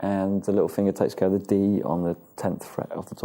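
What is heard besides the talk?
No everyday noise stands out behind the speech.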